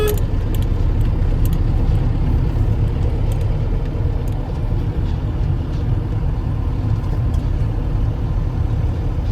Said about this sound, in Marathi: खाली रोड आहे पण तरी पण पळत नाही गाडी